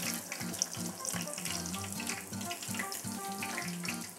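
Breaded milanesa cutlets frying in very hot oil, a steady, fairly quiet hiss and crackle with low bubbling underneath that holds throughout, no voices.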